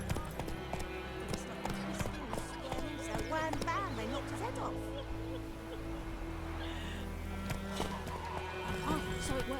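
In The Witcher 3, Geralt's horse Roach gallops with rapid rhythmic hoofbeats and lets out whinnying neighs over a steady game soundscape, with voices speaking at times.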